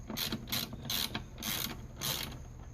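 Ratcheting clicks from a Torx bit backing out the bolts that hold the window motor on a VW Beetle Convertible, five regular bursts of rapid pawl clicks, close and fairly quiet, with no talking.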